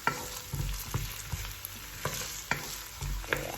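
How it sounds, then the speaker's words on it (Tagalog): Potatoes frying in a pan for spicy corned beef, with a steady sizzle broken by regular scraping and stirring strokes from a utensil, close and moderately loud, no talk. "Pa-fry lang natin yung potato."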